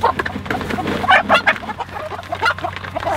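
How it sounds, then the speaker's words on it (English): Hens and their half-grown chicks cluck and peep in quick, overlapping bursts close by, a busy backyard flock gathered around food. "you can see how big Miss Cuckoo's chicks are getting"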